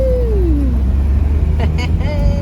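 A car drives along with a steady low engine and road rumble running throughout, while voices sound over it inside the vehicle.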